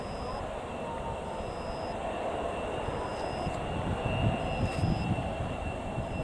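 Airplane that has just landed at Aomori Airport, a steady broad rumble of the aircraft with faint intermittent tones, heard from a moderate distance.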